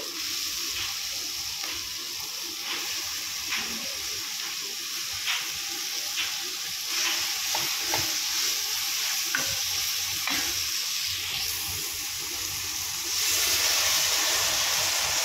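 Chicken drops into a hot pot for Mexican chicken soup, a steady loud sizzle and frying hiss with scattered stirring clicks and scrapes, swelling slightly near the end.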